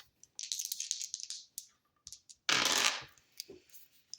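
Dice clatter and rattle across a hard surface during a tarot reading, crisp close tumbling clicks followed by a louder rolling burst and a few settling taps.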